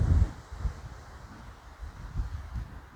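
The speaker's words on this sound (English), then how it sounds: "Woo, it's windy." Gusty wind buffeting the microphone in low rumbling bursts, strongest at the start, with faint rustling in between.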